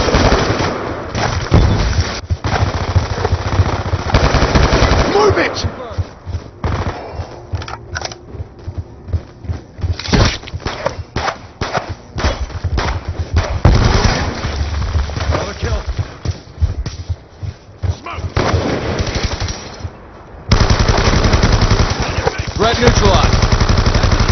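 Rapid gunfire in Call of Duty: Black Ops 2, loud, dense bursts of automatic shots and single cracks filling most of the stretch, with a brief drop near the end before the firing resumes.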